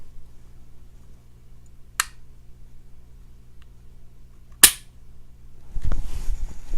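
Two sharp, isolated dry-fire clicks from a Springfield XD-45 SC Mod 2 pistol trigger, a few seconds apart, crisp and close in a quiet room, followed by faint handling rustle.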